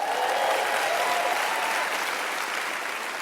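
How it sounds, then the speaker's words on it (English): Steady, dense hand-clapping applause from a conference audience giving praise to Jesus, filling the room evenly with a faint voice or cheer beneath it early on. "why don't you give him a hand clap of praise"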